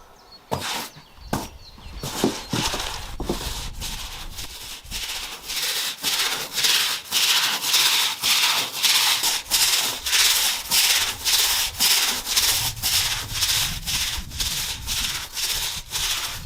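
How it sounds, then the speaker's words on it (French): A stiff brush scrubs a wooden terrace soaked in cleaning mixture, moving across the grain: a few scattered strokes at first, then a steady, loud, rhythmic back-and-forth scrubbing close to the microphone. "Je vais brosser une première fois perpendiculaire au sens du fil."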